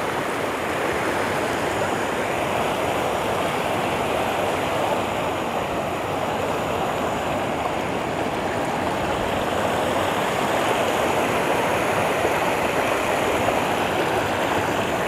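A mountain stream at Suối đá giăng, Hòn Bà in Khánh Hòa rushes over rocks in a steady, dense broadband wash that holds even and continuous throughout, with no voices.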